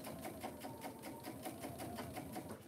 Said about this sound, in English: the sewing machine is so noisy